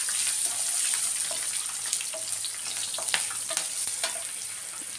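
Grated ginger and green chillies frying in a pan of tempering for pulihora, giving a steady close sizzle with light crackles and occasional stirring scrapes throughout, no voices.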